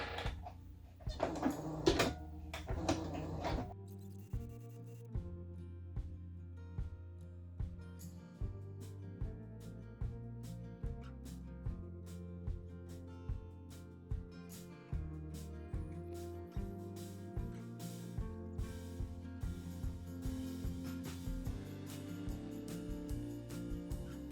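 Sewing machine stitching a small pleated accent pillow, running in a steady series of short, even bursts of mechanical whirring and thumping, close and fairly quiet, alone after a brief louder start.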